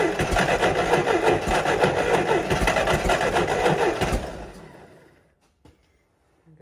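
An LP-fueled forklift engine with points ignition, jumped from a positive wire, turns over with a loud, rapid rhythmic chugging for about four seconds, then dies away to near silence with a few small clicks.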